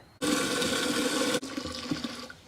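Water is poured into a container holding a strawberry plant: a loud, rushing pour for about a second, then a quieter trickling splash as the flow eases off, with no voices.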